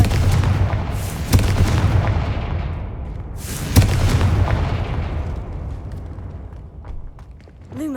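Confringo explosive spell blasts in Hogwarts Legacy: two heavy booming explosions a few seconds apart, each a sharp crack followed by a long rumbling decay that fades out, loud with no talk over them.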